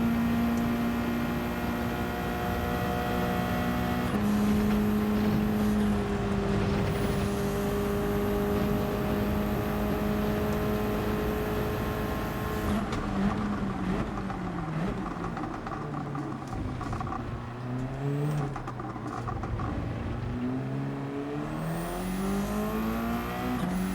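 Several race cars run a wet-weather online race in Gran Turismo 7, engines whining and shifting through gears in a continuous close roar, with other cars passing and pitch sweeps late in the run.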